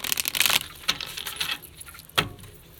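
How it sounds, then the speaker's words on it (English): Oracle card deck split into halves and riffle-shuffled by hand, giving quick papery flutters and taps in short bursts, then a sharp clack as the stacks come together, fairly close and with no talking. "My hands are little, so I have to kind of split the deck and shuffle it"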